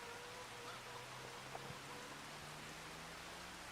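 Steady rainfall in the farming game Farming Simulator 25, a continuous even hiss of falling rain with faint low hum underneath, soft and unbroken throughout.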